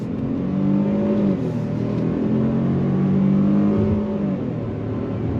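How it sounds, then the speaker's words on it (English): A 2023 Ford Escape ST-Line compact crossover accelerates hard with a steady engine drone that rises in pitch through the gears, heard loud and continuous from inside the cabin. "we're gonna go on throttle."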